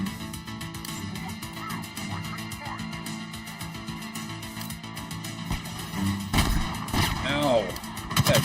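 Shotgun blasts and other gunfire in Call of Duty Modern Warfare 2, a dense, loud game soundscape with repeated shots and bursts, heaviest near the end, while a player talks over it.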